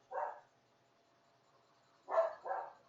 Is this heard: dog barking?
yes